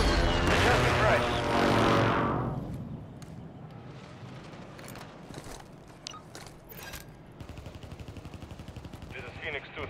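Airstrike explosions and gunfire in a video game: a heavy, loud blast rumbles and fades in the first seconds. Sharp scattered shots and a rapid burst of automatic fire follow over a quieter background.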